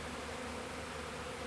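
A steady, dense buzzing hum of a honey bee swarm, continuous and even throughout, with no voices.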